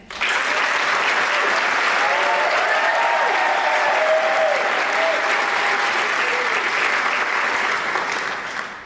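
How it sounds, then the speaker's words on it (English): Sustained audience applause filling a school senior awards night hall, steady and dense from start to finish, loud and even with no talk over it before tapering at the end. "And one more round of applause for Mr."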